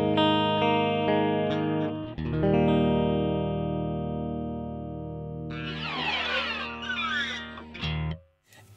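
Clean DI electric guitar played through a Boss SL-20 Slicer pattern effect, sustained chords with shifting chopped texture and a brief busier rhythmic burst near the end, heard alone with no talking.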